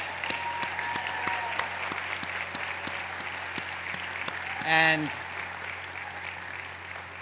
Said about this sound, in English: let's give our graduates and those who received awards today a big round of applause